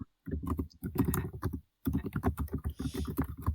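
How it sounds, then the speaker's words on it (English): Loud, rapid keystrokes on a computer keyboard clatter close to the microphone in a podcast recording, a dense run of sharp clicks broken by a brief pause, with a voice audible alongside. "tapping really loudly on the keyboard"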